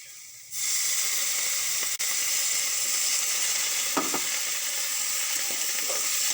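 Carrot rice sizzling in a hot pan right after a little water is sprinkled in: a sudden, loud, steady hiss that rises and holds, with faint stirring clicks.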